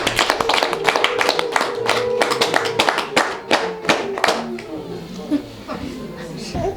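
An audience claps at a family gathering, with a burst of close, dense applause that thins into scattered claps while a voice talks underneath.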